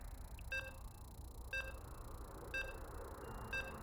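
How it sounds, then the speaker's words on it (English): Lobby beeps in StarCraft 2 during a Korean StarCraft League match: four short, evenly spaced electronic tones about one second apart, clear but modest over a low steady background hum. "As you can hear the beeps, we have our lobby, we have our map"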